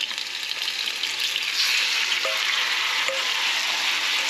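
Salt-and-pepper seasoned chicken sears in a frying pan with a steady, close, broadband sizzle that swells slightly midway, with a couple of faint clinks and no voices.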